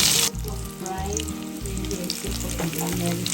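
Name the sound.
rava-coated mackerel fish frying in oil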